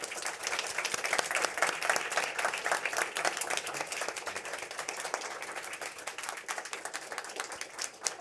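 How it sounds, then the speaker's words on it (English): Steady audience applause for a panel at an indigenous rights side event on the energy transition, dense clapping from a sizeable crowd that holds for several seconds and then eases slightly, with no talking. "I would like you all to give our beautiful panel a large applause."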